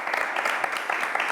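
Studio audience applause during a French-language talk show episode featuring the Senegalese hip-hop duo Daara J Family, a dense steady burst of clapping from a crowd, loud and close, with no talking over it.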